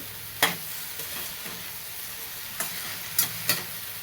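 Okra pieces, a chocolate bhindi variety, are sautéed dry in a pan for a tiffin vegetable dish. A soft, steady sizzle runs underneath while a spatula scrapes and clacks against the pan a handful of times.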